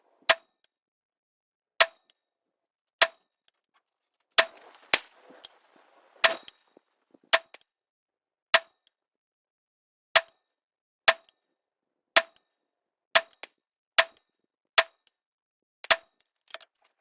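Rifle shots fired with Bone Frog 77 grain ammunition, about a dozen sharp separate cracks spaced a second or so apart, with silence between them.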